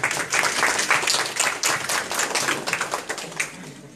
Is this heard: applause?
yes